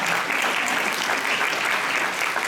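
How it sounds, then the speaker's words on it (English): A large audience applauds for summer camp students, a dense, steady wash of clapping filling the room at close range for the whole stretch. "Now let's give them a round of applause."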